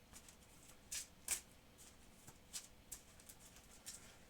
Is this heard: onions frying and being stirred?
no